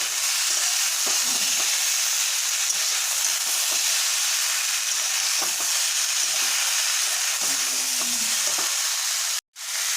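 Tomatoes sizzle and crackle as they fry in hot oil in a pan for a cauliflower, potato and koi fish curry, a steady close frying hiss that runs throughout with small stirring bumps, alone and without speech.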